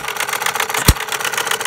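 A running 1/3 scale gas-powered Breisch Associated Hired Man hit-and-miss engine, ticking in a fast steady mechanical rhythm with a single loud firing thump midway, close and alone.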